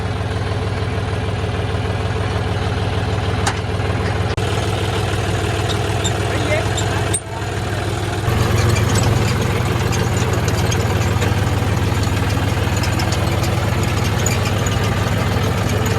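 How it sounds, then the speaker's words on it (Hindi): A tractor engine runs steadily at a brick kiln, a loud, continuous low rumble with a brief dip partway through before resuming just as strong. "ट्रैक्टर"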